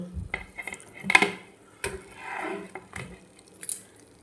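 Dishes and cutlery clatter in a series of sharp, close clinks and knocks as freshly fried raw banana fritters are lifted one by one onto a plate, with brief scraping between hits.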